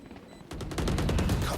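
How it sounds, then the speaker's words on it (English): Rapid gunfire in an esports shooter match, a fast burst of repeated shots starting after a quiet moment and continuing to the end, loud and close. "Shot through the smoke by Root Bear."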